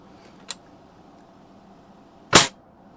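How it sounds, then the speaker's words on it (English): Two quick snaps from a Daisy 120 pellet rifle aimed at a target: a faint crack first, then a louder sharp shot about two seconds later, both in quiet surroundings. "All right, now we're going to shoot the witch"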